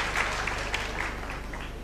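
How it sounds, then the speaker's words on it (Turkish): Applause ripples through an audience in a university festival hall, steady and fairly faint clapping that sounds distant and roomy, with no talking over it. "Kendilerini yerlerine alıyoruz alkışlarımızla."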